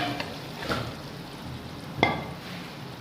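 Beef koftas drop into a pan of sizzling masala, giving a soft steady fry hiss with a few scattered scrapes and taps of stirring.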